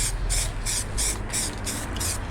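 Rapid bursts of hissing spray from an aerosol spray paint can while painting a car, about seven short blasts in quick succession, close and steady.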